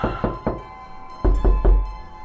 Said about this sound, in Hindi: ये सोचकर दरवाजे पे नॉक किया